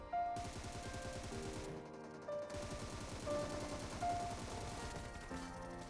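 Rapid bursts of automatic rifle fire from a weapon in PUBG, steady and loud over six seconds with a short gap near the two-second mark, layered with game music tones.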